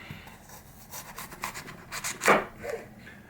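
Quiet rasping and crunching as a Marttiini Moose knife works through the core of an apple, a series of short scraping strokes close by.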